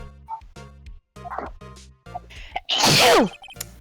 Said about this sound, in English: Sound like you sold your soul through that sneeze.